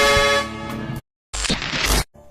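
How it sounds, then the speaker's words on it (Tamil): Loud horn blasts, a long sustained honk, a pause, then another strident burst with a train-like tone, heard close by. "காருடைய ஹார்னை ட்ரெயின் சவுண்ட் மாதிரி மாத்தி"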